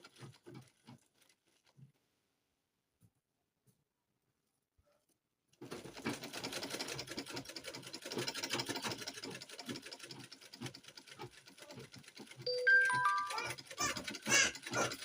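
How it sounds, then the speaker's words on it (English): A sewing machine stitching fabric for a turban gele starts after several seconds of near silence with a few faint sounds, then runs steadily with a fast, even patter that grows louder near the end, without any voices. "To join, start sewing it."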